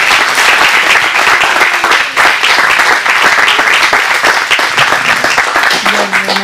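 A church congregation at a healing testimony service breaks into loud, sustained applause, dense and steady all the way through, with a few voices mixed in.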